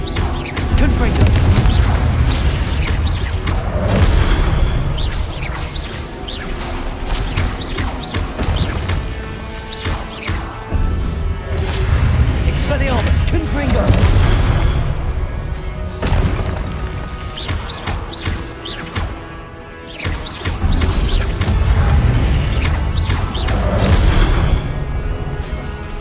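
Confringo and Expelliarmus spell blasts in Hogwarts Legacy hit as a loud, dense string of booms, crashes and thwacks with brief dips between flurries, while voices call out through the combat.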